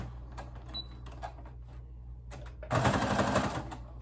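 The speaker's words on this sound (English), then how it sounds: "And then I just sew." Domestic sewing machine stitching the folded ends of a fabric face mask, a short dense burst of rapid mechanical whirring at close range after quiet handling noises.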